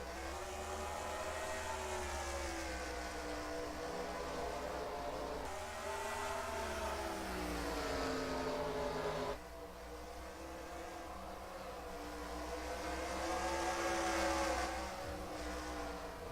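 A pack of race cars roars around the Eldora track in the Red Bull All-Star Race, engines whining and rising in pitch as they accelerate, surging past in waves with a brief dip midway.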